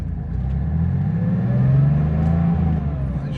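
A Porsche Carrera 3.2 engine runs during a gentle warm-up drive before an oil change, a close, steady low rumble kept at moderate revs with a slight rise and fall in pitch, and no talk.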